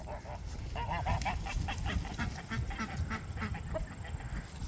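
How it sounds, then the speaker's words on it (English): Ducks quack and honk repeatedly in a busy, overlapping chorus, moderately close over a windy outdoor background. "Some of these ducks fly."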